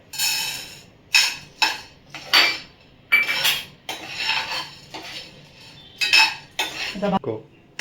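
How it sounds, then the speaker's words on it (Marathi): Split gram dal roasting over low heat in a pan is stirred, producing loud irregular metallic scrapes and clinks of a spoon against the pan in uneven bursts, with brief pauses between strokes. "आता फुटाण्याची डाळ मंद आचेवर भाजून घेऊया"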